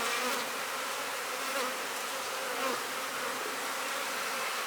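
Honey bees, nurse bees gathered near a cell builder hive box, buzz in a steady, dense drone throughout, close and continuous with slight swells, with no voices.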